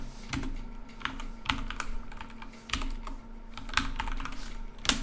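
Continuous close-up typing on a computer keyboard while writing Python code, a rapid, steady patter of key clicks with occasional heavier strokes over a faint background hum.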